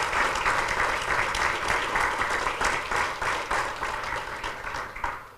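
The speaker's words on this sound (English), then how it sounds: "I think we should give Paymon a round of applause for that" Sustained audience applause at a 2009 talk on income tax, steady dense clapping from a sizeable crowd that fills the whole stretch without fading.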